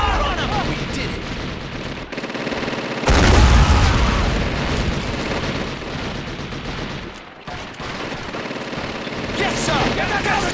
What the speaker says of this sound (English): Open fire! Put him down! Let's get some heavy fire on him!